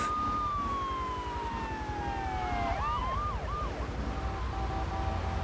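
Police car siren wailing and sweeping in the GTA III Definitive Edition video game during a chase, loud and continuous with pitch glides, over steady car engine noise.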